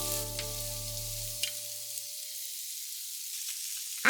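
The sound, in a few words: shrimp frying in olive oil in a pan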